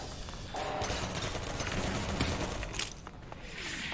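Turrets firing in the video game Half-Life 2, a dense, continuous burst of rapid gunfire lasting several seconds, fairly loud, with a brief break and a sharper shot near the end.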